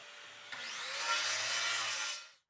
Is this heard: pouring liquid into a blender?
no